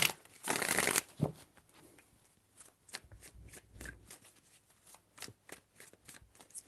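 Tarot cards are shuffled up close in one dense riffling burst followed by quieter soft card slides and taps, with no talking.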